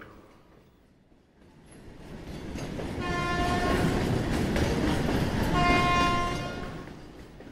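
A passenger train rolls along, its rumble swelling from quiet to a loud, sustained roar. Two drawn-out horn blasts ring out over the running noise, the second near the end.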